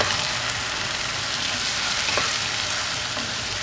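Tomato paste made from five large tomatoes, about 1.5 cups, sizzles in a hot pan for a restaurant-style dal makhani, with steady, loud frying crackle throughout.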